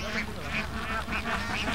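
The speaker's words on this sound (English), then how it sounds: "Each year, Arctic geese make the perilous migration over the Himalayas from Russia to spend their winters in the warm Indian rivers." Arctic geese wintering on a warm Indian river give repeated honking calls in a steady rhythm from a flock at middle distance, over a constant wash of background noise.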